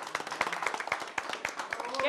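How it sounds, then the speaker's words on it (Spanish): Audience applause after a sung bolero on a Spanish-language TV show, a steady patter of claps building slightly toward the end, with speech mixed in. "Un aplauso."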